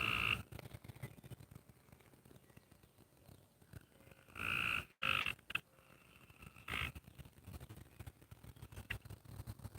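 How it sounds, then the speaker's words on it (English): Frogs croak in the quiet night, their calls coming in short bursts and choruses that rise and fall at a modest distance. "The frogs are active tonight, y'all."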